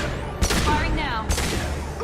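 Gunfire in the PC game Mass Effect 2, two sharp loud bursts about a second apart amid ambient game sound and music.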